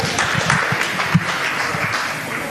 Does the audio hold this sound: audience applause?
yes